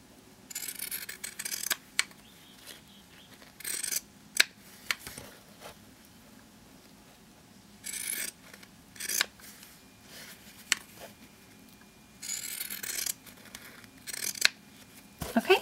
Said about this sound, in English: get your pinking shears, and just cut the edges around your fabric, just like this